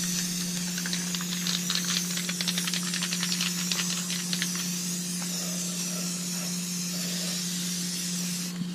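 Spray paint hissing onto a car outdoors in a steady, close, continuous stream, with faint rattling flecks early on and a low steady hum beneath, no talking.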